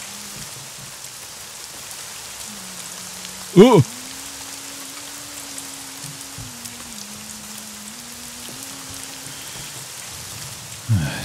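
Rain drips and patters steadily through a leaking roof inside a house in the horror video game Layers of Fear 2, a constant wet hiss under a low musical hum, broken by a short exclamation from a player.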